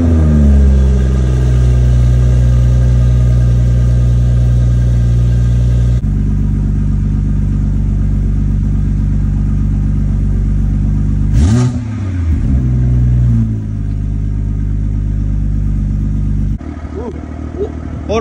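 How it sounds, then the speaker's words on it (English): A BMW M340i engine idles and revs through its aftermarket exhaust, a loud, steady low rumble with a few sharp blips and pitch swoops as the throttle is blipped, switching tone partway through. "Let me know in the comment section down below how you guys like the exhaust, too."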